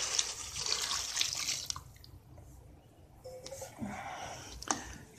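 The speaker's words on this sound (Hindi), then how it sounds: "अब मैं बाकी पानी भी डाल रहा हूँ।" Water poured from a vessel into semolina halwa cooking in a pan, a steady splashing pour with a brief lull midway, then renewed sizzling and liquid splashes close by, no talking.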